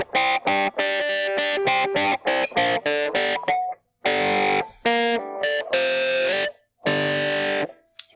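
A distorted electric guitar plays an intro riff, choppy chords and single notes with short gaps between phrases, loud and close with no talk.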